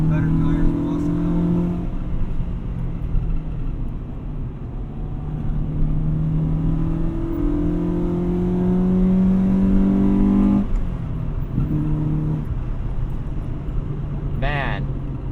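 A 2003 Honda Civic Si EP3 engine pulls steadily under acceleration while driving, its rising drone heard from inside the car with a brief dip mid-run before climbing again; people talk over it.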